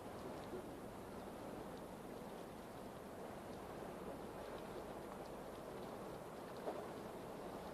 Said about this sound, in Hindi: बरसात शुरू हो गई है।